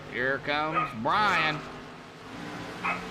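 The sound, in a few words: dog barking in the background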